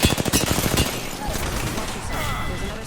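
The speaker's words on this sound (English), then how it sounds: "I am able to kind of come behind these guys and get some really good shots in here" Rapid automatic gunfire in the Apex Legends battle royale shooter crackles loudly in a fast burst, then gives way to dense, continuous combat noise and impacts while a voice talks over the action.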